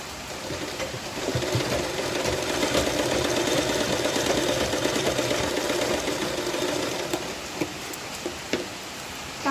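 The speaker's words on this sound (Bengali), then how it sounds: "আগে আমি একটা টাক সেলাই দিয়ে নিলাম।" A sewing machine runs steadily, stitching a tack stitch on a sleeve: a continuous, fast mechanical whir and rattle close by, with a few light clicks near the end.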